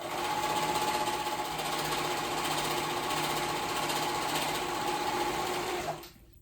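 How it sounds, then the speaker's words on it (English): A sewing machine stitches a pocket onto the skirt of a babydoll dress. It runs as a loud, steady, rapid mechanical whir close by for about six seconds and then stops abruptly. "So we're gonna sew that pocket on just along that edge."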